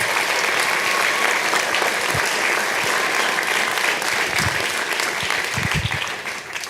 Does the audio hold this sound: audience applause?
yes